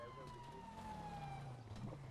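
Police car siren in the game GTA V, a wailing tone sweeping steadily under a dense game soundscape, with voices talking over it.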